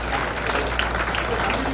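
An audience claps at a scholarship function for students and principals, a dense, steady patter of many hands lasting briefly at moderate loudness.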